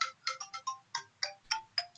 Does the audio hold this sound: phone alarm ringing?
yes